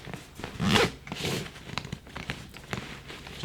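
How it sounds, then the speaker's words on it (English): A backpack zipper drawn closed in a few quick pulls, a ratchety rasp at close range with a louder burst early on, followed by light rustling of fabric and handling. "zip it up as much as we can until it gets to the T"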